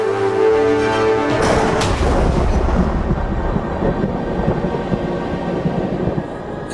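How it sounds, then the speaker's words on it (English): Thunder sound effect laid into a film-score sequence: a sustained synth tone cut off by a loud crack, then a long rumbling roll that slowly fades and stays close and heavy. "massive thunder in the image, so I supported this with thunder sound effect here."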